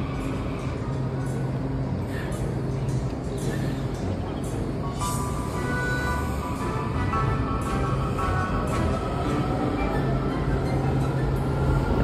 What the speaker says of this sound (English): Watch this blue line train leave.